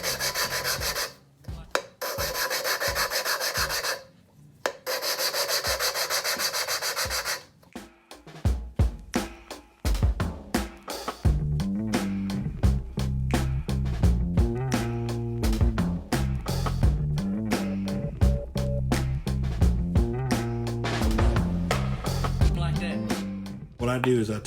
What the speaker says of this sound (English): We're gonna grind, lift, spin, and grind.